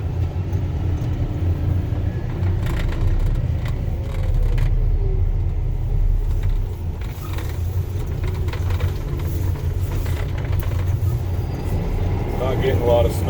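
A snow removal plow vehicle rolls around slowly in winter with little snow to clear, its steady low engine rumble and drive noise continuous and close throughout, with a voice talking over it at times.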